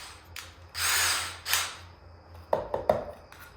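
A power drill countersinks screw holes in a portable skate ledge, with two short whirring bursts near the start followed by several sharp clicks and knocks as the bit catches the workpiece.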